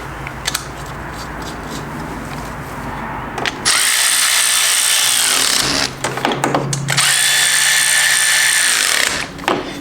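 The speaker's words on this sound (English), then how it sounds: "this impact or this wrench does like 15 foot-pounds of torque" An impact wrench drives acorn nuts on a 1996 Honda Fourtrax 4x4 ATV, with loud, close bursts of buzzing, rattling hammering and clicks between them.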